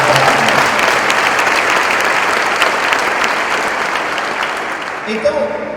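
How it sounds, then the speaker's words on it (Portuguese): Congregation applauding during a Sunday church service, a loud, sustained roar of clapping that gradually thins toward the end as a voice comes in. "Então dá um aplauso a Jesus"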